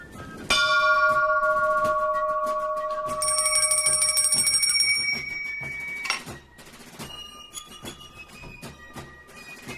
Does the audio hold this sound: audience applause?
no